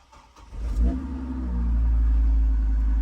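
Engine of a flood-damaged truck from Hurricane Ian flooding, started at a Copart salvage auction yard: a low, steady idle rumble that catches after a brief cranking burst, then holds loud and close.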